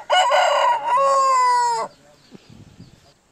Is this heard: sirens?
no